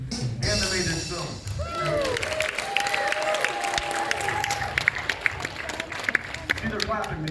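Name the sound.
audience applause in a theater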